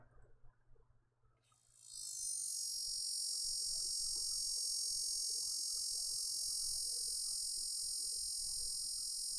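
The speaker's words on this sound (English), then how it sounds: "Common cicadas in North America." Common North American cicadas buzz in a video game, a loud, steady high-pitched drone that starts abruptly after a quiet moment and holds unbroken over a faint low hum.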